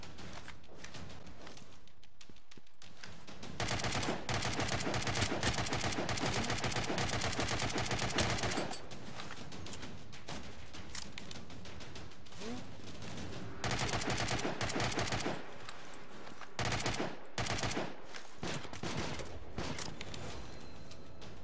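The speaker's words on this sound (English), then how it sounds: "Oh, they're shooting at us." Bursts of automatic enemy gunfire in the Angels Fall First shooter game, loud rapid volleys coming in several separate stretches with quieter gaps between them.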